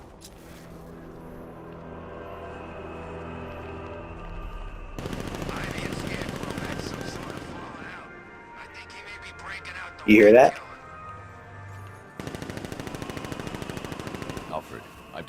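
Bursts of rapid gunfire crackle in the distance within Batman: Arkham Knight game ambience, with a person speaking briefly amid the shooting.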